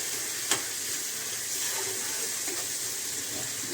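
Mustard frying in a pan gives off a soft, steady hiss close by, broken once by a single sharp tap early on.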